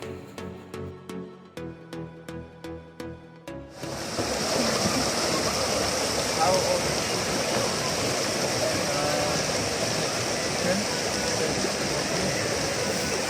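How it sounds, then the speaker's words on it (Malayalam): A waterfall in Qatar roars as a loud, steady rushing wash of falling water. It follows a few seconds of rhythmic bleating-like sounds and has no voices over it. "കുറേ വെള്ളച്ചാട്ടങ്ങളുണ്ട്."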